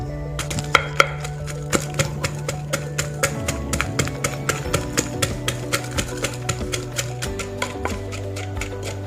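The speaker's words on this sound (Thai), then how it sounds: "หั่นเป็นแว่นเป็นแว่นนะครับ" A knife slices galangal into rings on a board, many quick regular taps in a long even rhythm, close and moderately loud.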